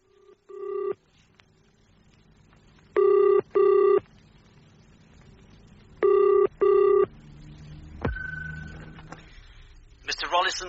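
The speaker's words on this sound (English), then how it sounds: "Now, look, Gillian, I must nip into this box and make a couple of phone calls" A telephone in a phone box gives a short tone, then two pairs of loud ringing-tone bursts, followed by clicks and a sharp tone as the line connects.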